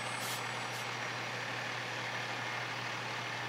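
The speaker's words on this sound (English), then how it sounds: "Those fire trucks are really, really cool equipment." A fire truck's engine idles at a town parade with a steady, loud, continuous rumble and hum, and two faint high hisses come near the start.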